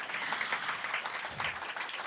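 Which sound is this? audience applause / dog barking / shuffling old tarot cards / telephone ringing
audience applause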